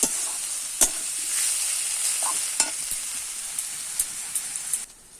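A fried fish head goes into a hot pan for a Bengali fish curry, setting off a bright, steady sizzle with a few sharp spatters and stirring scrapes, close up and alone.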